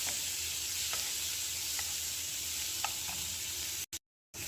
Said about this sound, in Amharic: ሽንኩርታችንን በዚህ መልክ እያበሰልን ነው።